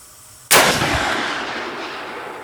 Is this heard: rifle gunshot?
yes